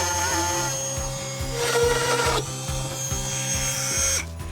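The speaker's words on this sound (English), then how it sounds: "Can we give us the Dremel and do it here?" A Dremel rotary tool grinds steadily at close range in short loud bursts, its pitch dipping and recovering as it bites into the workpiece, with no voices.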